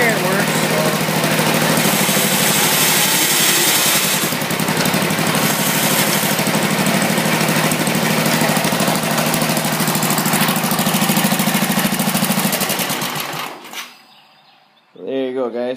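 A 1969 hydrostatic tractor's engine runs steadily and loudly with a low drone and rattling mechanical clatter as it moves, close to the microphone, then cuts out abruptly near the end and a voice begins.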